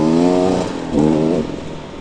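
A motorcycle passes close by, its engine rising in a loud harmonic whine, dipping, then surging again before fading slightly as it moves off, with no talking.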